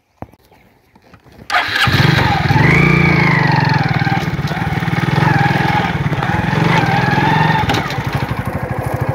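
A motorbike starts and rides across an old flyover bridge with a canal alongside and a river below, its engine loud, close and steady after a short quiet opening.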